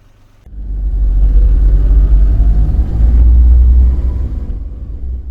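A police car in a visual novel game starts up and pulls away, a deep engine rumble that rises sharply after a quiet start and holds loud and close before easing slightly.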